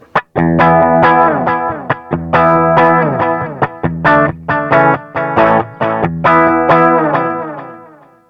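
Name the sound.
guitar through Quattro micro digital delay pedal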